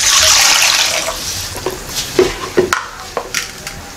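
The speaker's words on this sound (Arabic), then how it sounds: "غنخويو الماء ديالنا في الباتينه" Water pours loudly into a pot in a kitchen, a strong continuous gush that fades after a couple of seconds into scattered clinks and drips.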